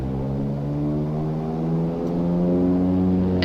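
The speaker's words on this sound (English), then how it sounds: "So, you can hear the engine at near idle." Car engine near idle in the Assetto Corsa racing game as the car pulls out slowly, a steady low harmonic drone with a slight rise in pitch, continuous and close with no talk.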